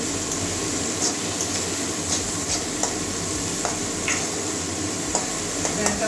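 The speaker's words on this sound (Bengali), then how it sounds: "পেঁয়াজটা ভালো করে ভেজে নেবো লাল লাল করে" Salted onions fry and are stirred in a pan while cooking toward a reddish brown, a continuous close sizzle broken by repeated scraping clicks of the spatula, with no talk heard.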